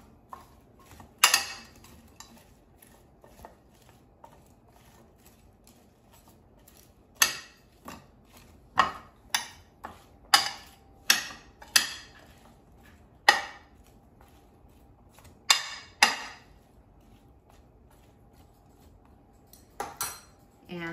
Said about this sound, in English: And now toss so they're coated evenly with seasonings.